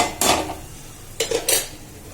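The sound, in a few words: mutton added to frying pan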